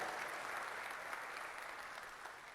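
Sustained applause from a church congregation after a sermon line, a steady dense wash of clapping hands throughout with no voices over it.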